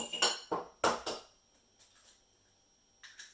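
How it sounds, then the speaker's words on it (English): An egg is cracked into a bowl while preparing a crumbed pork loin: a cluster of sharp, close taps and clinks against the bowl's edge, then a few fainter clinks after a pause. "So I'm just going to crack an egg in the bowl"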